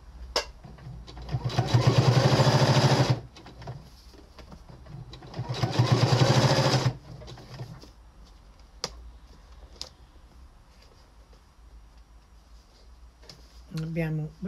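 A sewing machine runs in two loud bursts of stitching, each about two to three seconds long, while sewing an apron made from a dish towel. Quieter clicks and handling noises come between the bursts, and a voice briefly speaks near the end.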